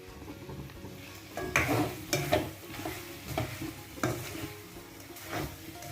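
Chicken pieces fry with chili flakes in a pan over low heat, a soft continuous sizzle broken by several scraping stirs and clinks of a spoon against the pan, fairly quiet, with no voices.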